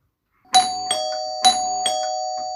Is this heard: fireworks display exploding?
no